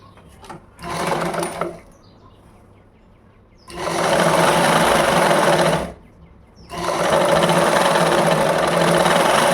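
A sewing machine stitches a ladies' blouse in three bursts, a short run followed by two longer steady whirring passes, loud and close with brief pauses between.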